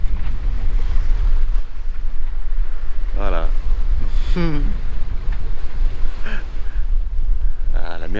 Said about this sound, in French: Ah, la mer s'est bien calmée.